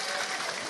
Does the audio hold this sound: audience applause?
yes